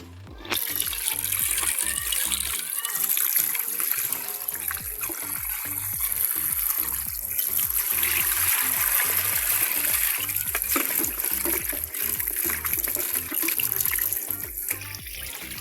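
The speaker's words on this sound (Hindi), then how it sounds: "सबसे पहले हम चिकन धो लेंगे।" Tap water runs and splashes continuously as raw chicken is washed for a Peshawari karahi, a close, dense gush of spatter and trickle with no voices over it.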